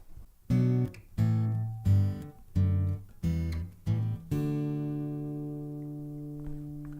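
Six single chords from a song are plucked on a guitar, one after another at a steady pace. The final chord is left to ring and slowly fade.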